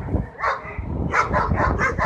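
Several dogs bark outdoors in a yard, a single bark followed by a quick run of repeated yaps at moderate distance.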